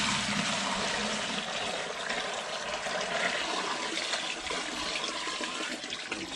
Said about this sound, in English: pour the water in this bucket.